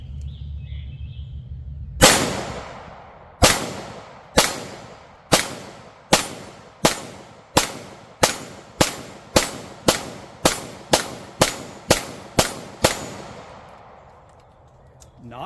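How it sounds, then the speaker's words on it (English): 9mm 115 grain ball pistol rounds are fired at an AR500 steel target on an outdoor range at 15 yards, about fourteen sharp loud shots at a steady pace, each leaving a ringing decay. "Let's try some 9mm 115 grain ball."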